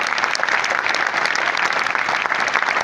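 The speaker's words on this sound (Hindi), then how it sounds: "उनके लिए एक बार जोरदार तालियां।" Dense applause from a crowd, steady and fairly loud, continuing without a break.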